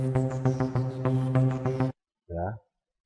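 Nexus synth plugin preset After Midnight 2 sounds as a pulsing, bright chord sequence with steady rhythmic attacks for about two seconds, then stops, followed by one short separate tonal blip.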